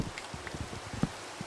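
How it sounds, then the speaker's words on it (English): Rain falls in Minecraft as a faint, even patter of scattered drops over a soft hiss, heard briefly and without talk. "And it's raining."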